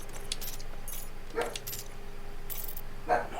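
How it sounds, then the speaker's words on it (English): A dog gives a few short, sharp barks and whimpers at moderate distance, scattered irregularly over a low background hum, with some jingling mixed in. "Can you stop barking"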